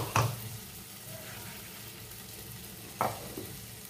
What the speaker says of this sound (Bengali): আদা লঙ্কাটা দিয়ে একটু নেড়ে চেড়ে কষাবো।